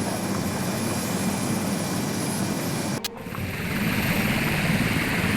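An SH-3 helicopter taking off in the video game Sea Power, its engine and rotor roaring steadily, cut by a brief sharp break, then the whirring drone continues and slowly builds.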